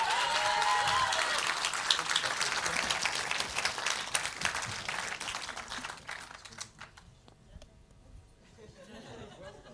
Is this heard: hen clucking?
no